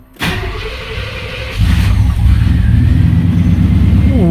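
A 1989 Chevy pickup starts inside an enclosed garage: a sharp crank catches into a loud idle, then the engine revs up and keeps running steadily and close.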